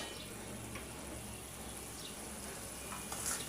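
Spices, onion and green chilies frying in a pan for a Bengali pui shaak (Malabar spinach) dish, giving a steady, soft, close sizzle that runs throughout with faint stirring clicks and no talking.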